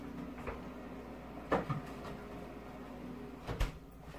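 Food goes back into a home kitchen freezer with a couple of soft handling knocks, then the freezer door thuds shut, a brief, fairly close bump against quiet room hum.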